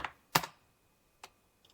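A few isolated keystrokes on a computer keyboard, sparse taps separated by pauses, close and fairly quiet.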